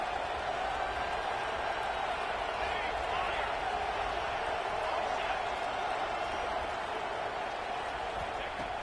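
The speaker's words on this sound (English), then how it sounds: "And here comes the noise. This crowd is trying to inspire this defense to make a big red zone stop." A packed stadium crowd at a college football game roars continuously as the defense faces a red zone stand, a dense, unbroken wall of noise that stays loud from start to finish.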